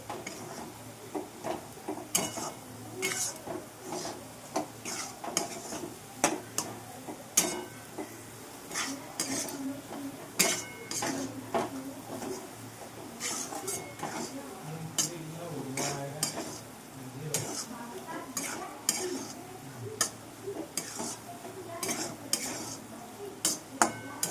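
Moong dal is roasted for halwa in a pan and stirred constantly, producing repeated scraping and clinking strokes over a soft, continuous background sizzle.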